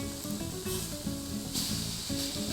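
Oil-free mushroom steak searing in a hot pan gives a steady, close sizzle that runs the whole time beneath background music.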